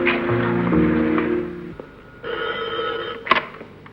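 A telephone bell rings in a 1970s Pakistani drama scene, sounding as a loud, close burst of rings with a short pause before a second ring and a brief click at the end.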